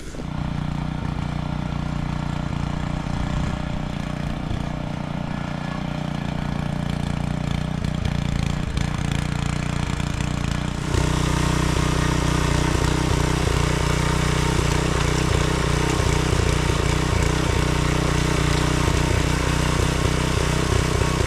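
Tractor engine chugging steadily as it works through hard, compacted orchard ground, a continuous mid-pitched drone that grows louder and rougher about halfway through, close by.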